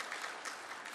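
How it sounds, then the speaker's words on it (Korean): A church congregation applauds in encouragement, a short dense spell of hand clapping heard fairly faintly, with no voices. "우리 박수로 한번 격려하시겠습니다."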